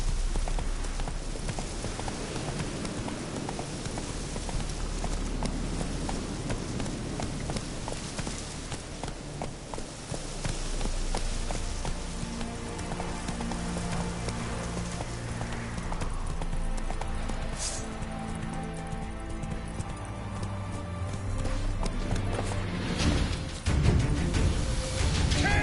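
Roach, the horse in The Witcher 3, gallops with steady rhythmic hoofbeats under game music and ambience throughout, with shouting and commotion building near the end.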